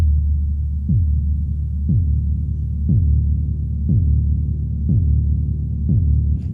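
Distorted deep booms from the Realitone Nightfall instrument for Kontakt Player strike six times at an even pace about one second apart, each a loud low thud that drops in pitch over a continuous rumbling drone.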